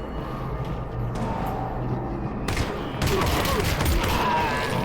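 Gunfire from a pistol in the VR game Half-Life: Alyx, dense bursts of shots and impacts layered over a steady low game ambience, growing louder and busier toward the end.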